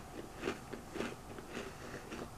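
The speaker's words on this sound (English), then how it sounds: "let's give it a bite." Several crisp, crunchy bites into a thin, crispy chocolate chip cookie, followed by steady chewing, close and quiet with no talk.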